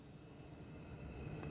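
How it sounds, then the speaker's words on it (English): A Bombardier R142 subway train rolls toward West Farms Square-East Tremont Avenue station, a faint, steady low rumble that builds slightly as it nears. "train approaching the station."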